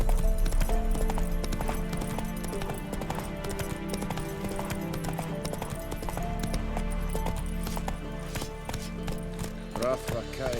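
Hoofbeats of the horse Roach galloping in The Witcher 3 form a steady clip-clop rhythm under continuous game music and ambience, with a brief rise of other effects near the end.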